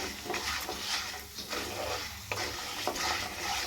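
Vegetables sizzle steadily as they fry in a pan, with repeated scraping stirs cutting through the continuous crackle, close and fairly loud throughout.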